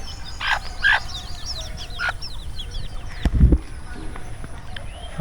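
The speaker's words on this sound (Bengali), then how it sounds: "এগুলো দেখতে পাচ্ছেন বাড়ির মুরগি" Domestic village chickens in rural Bangladesh cluck in short bursts and trailing chirps nearby, with a brief thump partway through.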